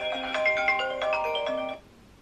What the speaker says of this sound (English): my phone's been going crazy today